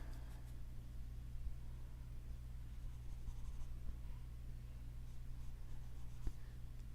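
Pencil strokes on paper while sketching a surrealist portrait's mouth and face, faint soft scratching over a steady low hum, with one brief tap near the end and no talking.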